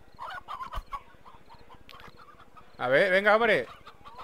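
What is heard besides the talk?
chicken clucking in Slime Rancher video game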